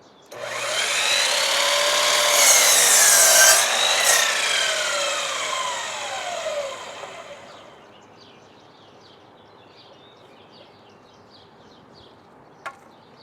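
Wooden rafters for an off-grid cabin being cut with a handsaw, several loud rhythmic strokes rasping back and forth up close, then fading into quieter scattered sounds.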